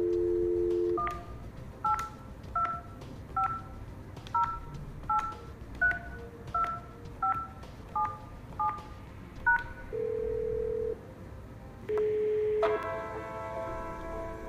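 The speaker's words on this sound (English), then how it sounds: "use extension 8002 to dial a mobile number" A phone dials out from an extension on a Yeastar PBX: an initial tone, then a steady run of about a dozen short DTMF key beeps, followed by longer ringback tones.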